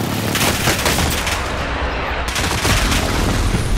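Enemy precision airstrike in a shooter video game: a loud, dense, continuous barrage of blasts and rattling impacts that fills the whole stretch with no break.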